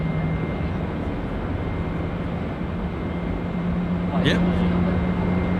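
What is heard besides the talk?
Boeing 777-300ER GE engines spooling up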